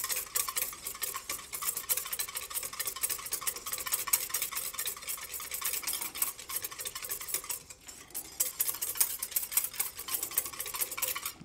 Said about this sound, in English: You wanna just whisk this until the citric acid is fully combined into the liquid.